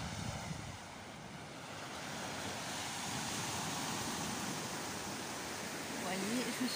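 Waves wash steadily onto the beach near Sète, a broad continuous hiss of surf with a faint swell in loudness toward the end and no talk.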